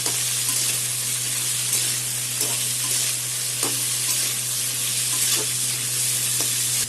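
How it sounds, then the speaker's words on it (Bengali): Green chilli, onion and tomato fry together with a little salt in a pan, a loud, close, unbroken sizzle with occasional stirring knocks over a low steady hum. "এগুলো সব ভেজে নেব একসাথে"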